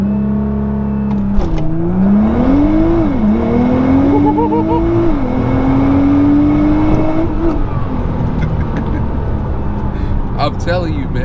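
A 2014 Nissan GT-R engine revs aggressively and loudly up close, its pitch sweeping up and down in repeated surges before settling into a sustained high drone, with voices faintly present.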